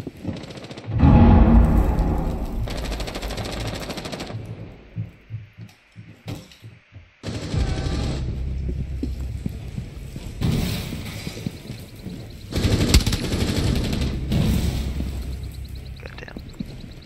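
Bursts of gunfire in the video game Rainbow Six Siege, rapid automatic fire coming in several loud stretches separated by brief gaps, with heavy low-end impacts and no talk.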